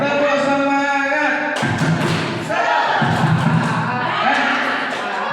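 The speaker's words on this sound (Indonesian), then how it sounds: "tepuk semangat dulu ya, tepuk semangat." Schoolroom of teachers or students doing a rhythmic spirit clap in Rembang, Indonesia, bursts of loud patterned clapping mixed with voices and group chanting.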